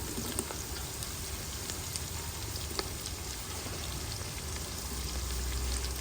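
Chopped onion and curry leaves sizzle in hot oil in a pan for gobi fried rice, a steady, close crackling fry with scattered pops throughout.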